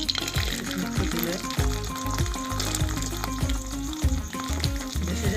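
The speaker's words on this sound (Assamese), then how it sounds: "তেল গৰম হোৱাৰ পিছত খিচমিচটো দি দিম" Raisins fry in hot oil for an Assamese payokh (rice pudding), giving a steady, close sizzle with soft scraping and clatter from the pan.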